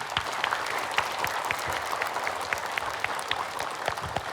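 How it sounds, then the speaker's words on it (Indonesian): Steady applause from a crowd, many hands clapping densely and continuously at an even level throughout. "Kalau gitu ibu-ibu tepuk tangan yuk untuk Ustadz Danu."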